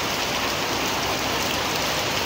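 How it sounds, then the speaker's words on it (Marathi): Heavy rain pours down in a dense, steady, hissing roar with no breaks, loud and close, and no voices are heard. "कारण की खूप पाऊस पडायला लागला आहे बघा"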